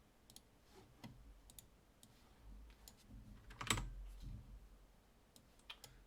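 Sporadic clicks of typing on a computer keyboard, a few light taps and one louder burst of keystrokes mid-clip, close and otherwise quiet.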